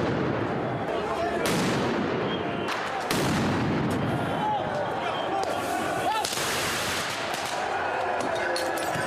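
Firework mortars fired at police during a street riot in a Paris neighbourhood, with loud booming blasts and crackling bursts over a constant roar of crowd noise and a voice speaking.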